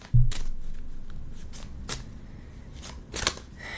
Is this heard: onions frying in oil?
no